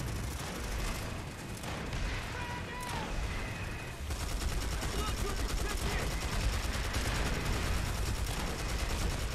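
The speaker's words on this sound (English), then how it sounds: "How many times I shoot those guys? How many times I shoot both of them?" Dense gunfire in the video game Planetside 2 on PS4, continuous overlapping automatic shooting and explosions, loud and busy throughout, growing heavier partway through, with some talk mixed in.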